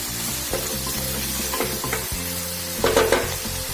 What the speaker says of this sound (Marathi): आणि कांद्यांना ब्राऊन होतपर्यंत शिजू द्यायचं।